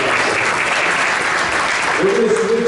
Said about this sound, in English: Round of applause on this.